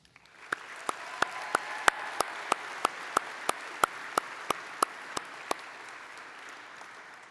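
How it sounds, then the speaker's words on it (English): Audience at an architecture awards ceremony breaks into a round of applause, a steady wash of many hands clapping with sharp individual claps standing out, swelling and then fading away. "I think one more round of applause."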